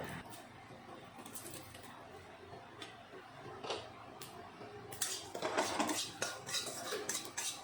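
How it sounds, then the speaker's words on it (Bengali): Cumin and a bay leaf dry-roasting in an empty pan, heard as light metallic scrapes and clinks of a spatula stirring the spices, which grow busier and louder toward the end. "এই শুকনো কড়াইতে একটু জিরা আর একটা তেজপাতা আমি ভেজে নেব"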